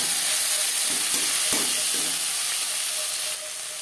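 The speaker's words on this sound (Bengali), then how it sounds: "10-15 সেকেন্ড ভেজে নেওয়ার পর দিয়ে দেবো পেঁয়াজ কুচি, টমেটো" Chopped onion and tomato hit a small amount of hot oil for a silver carp curry, giving a loud steady sizzle with a few quick stirring knocks near the start, no talking.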